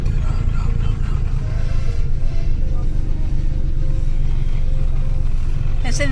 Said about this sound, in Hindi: ट्रैफिक काफी है ना।